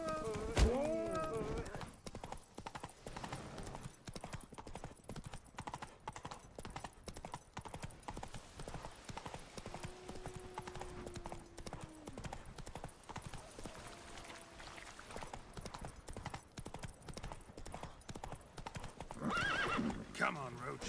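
In The Witcher 3, the horse Roach gallops with a continuous drumming of hooves and the occasional whinny, loud and near, while a person talks over much of it.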